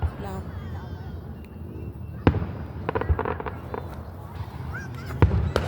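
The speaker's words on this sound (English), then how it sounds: "It's a firework." Fourth of July fireworks burst in a series of sharp bangs and crackling pops, some close and loud, over a murmur of people talking and distant background noise.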